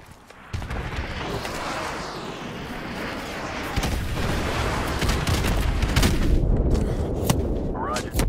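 Airstrike explosions in the Call of Duty 4 video game: dense, continuous rumbling booms and blasts that grow louder toward the end, with a battle din and faint voices mixed in.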